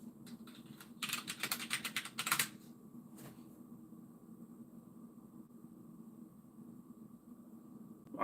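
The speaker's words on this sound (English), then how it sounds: "Yeah, helps if I type right." Fast typing on a computer keyboard, a dense burst of clicks lasting about a second and a half, then a few isolated keystrokes over a quiet room hum, with no talk.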